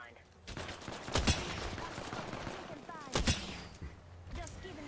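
Gunshots in Apex Legends, two sharp loud cracks about two seconds apart among scattered smaller pops and game sounds, with some voice chatter mixed in.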